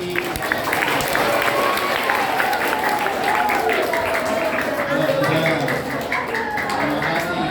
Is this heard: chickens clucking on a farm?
no